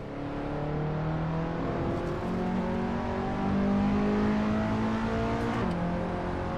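A race car engine in Assetto Corsa drones and revs steadily, pitch climbing and settling through gear changes, loud and continuous with no talking.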